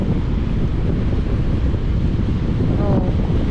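Strong storm wind during a typhoon buffets the microphone with a loud, continuous low roar and gusting rumble, steady throughout, with no clear voices rising above it.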